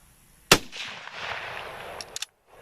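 A single sharp shot from a Swiss Schmidt Rubin 1911 carbine cracks close and loud, followed by a rolling echo that fades over about a second and a half, then two quick metallic clicks of the action.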